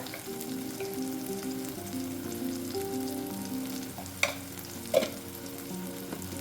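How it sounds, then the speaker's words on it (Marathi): Spices sizzle and fry in a pan for methi dal while being stirred, a steady close crackle with a couple of sharp utensil clinks near the end. "आता हे मसाले आपण घाटून घेऊया"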